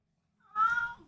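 A cat meows once, a single fairly close mid-pitched call lasting about half a second, heard in an otherwise quiet indoor space during a live cooking stream.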